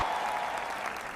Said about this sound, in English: Everyone is clapping loudly and cheering our names